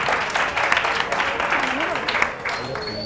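Studio audience applause on a Catalan local-TV spelling quiz show, steady dense clapping filling the whole stretch at moderate loudness, with a voice briefly heard over it.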